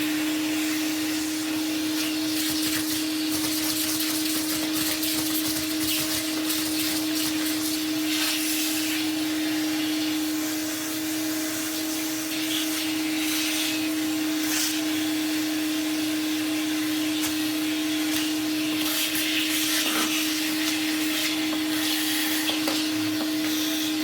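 A vintage Numatic vacuum cleaner runs continuously with a loud, steady motor whine and airy hiss while dusting off another vacuum, close and unbroken, with no talk.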